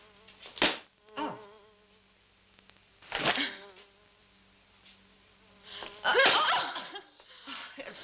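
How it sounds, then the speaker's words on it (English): A wasp buzzes around indoors in the countryside, coming close in several short, loud bursts between quieter stretches, with faint breathing and a laugh nearby. "Oh, there's a wasp here. There are always a few this time of the year."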